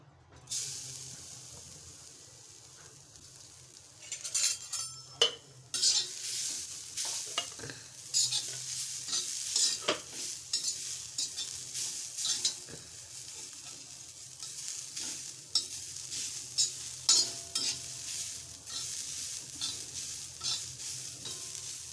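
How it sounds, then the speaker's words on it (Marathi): Fresh and dried coconut, onion, ginger and garlic roasting on a hot griddle, with a soft hiss, crackling sizzle and repeated scraping and stirring strokes, close and moderately loud. "गरम तव्यावर ओल्या नाळचं खोबरं सुक्या नाळचं खोबरं कांदा आलं लसूण क्रमाक्रमाने मी गरम तव्यावर भाजून घेणार आहे"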